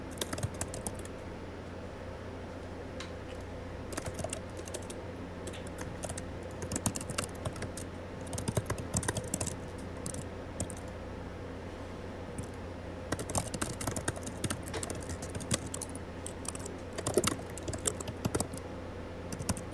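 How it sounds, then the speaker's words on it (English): Rapid typing on a computer keyboard during an online Blood on the Clocktower game call, with clattering keystrokes in irregular bursts that come and go across the whole stretch, fairly close and without talk. "we can hear your typing"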